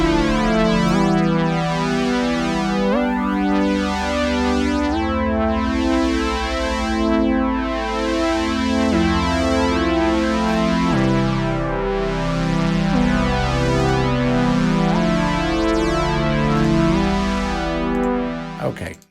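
A polyphonic synth patch built from four BLEASS Monolit instances driven by Polythemus and Chordboard plays sustained, lush chords that change every couple of seconds. The sound is loud and continuous, with no speech over it, and ends with a short fade.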